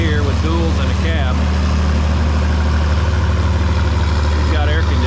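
A John Deere 5020 tractor with dual wheels and a cab idles steadily at a threshing bee, a loud, constant low engine rumble with no load, while other machinery sounds briefly in the background.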